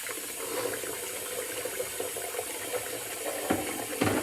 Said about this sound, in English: So I'm gonna fill this up again and waste some more water.